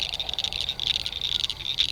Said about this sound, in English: quiet frogs!